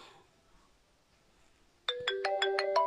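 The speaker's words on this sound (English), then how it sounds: "phone call from unknown" A phone starts ringing with an incoming call from an unknown number, playing a bright repeating electronic ringtone that cuts in suddenly after near silence, close and clear.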